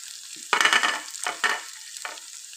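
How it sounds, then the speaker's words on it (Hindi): Chicken and freshly added vegetables sizzle and fry in a pan, with loud bursts of hissing and stirring scrapes in several waves, close up and with no talk. "ये देखें चिकन जो है वो फ्राई हो चुका है अब हम इसमें डाल देते हैं वेजिटेबल्स"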